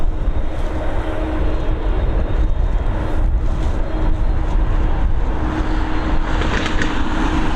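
A Turkish Airlines airliner approaching Dublin Airport gives a steady, loud broadband engine roar that holds for the whole stretch with no talking.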